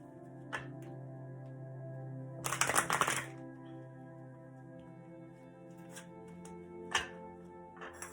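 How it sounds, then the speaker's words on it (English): A brief burst of tarot cards being riffled and shuffled, close and crisp, amid a quiet room with a steady low hum and a few small taps. "One more shuffle."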